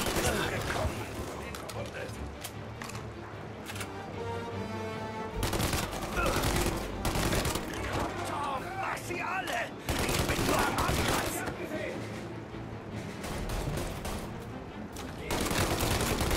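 Rapid bursts of gunfire and machine-gun fire rattle almost continuously, with voices talking over the shootout in the video game Mafia: Definitive Edition.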